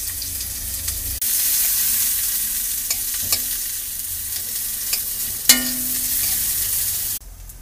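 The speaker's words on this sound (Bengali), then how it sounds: "পেঁয়াজটা লাল লাল করে ভেজে নেব" Onions frying in oil in a wok, a loud steady sizzle with occasional stirring scrapes and clinks, cutting in and out abruptly.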